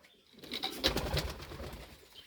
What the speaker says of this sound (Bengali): এই কবুতরটা রেস খেলা কবুতর।